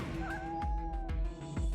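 A cat in the One Eleven video game gives a drawn-out meow with a wavering tone, moderately loud against a low game ambience with a few soft thumps.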